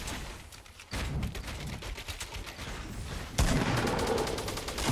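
Heavy gunfire in Fortnite Battle Royale during a squad match, a dense, continuous crackle of overlapping shots that grows louder and busier partway through, with no voices on top.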